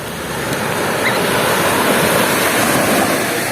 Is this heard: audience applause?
no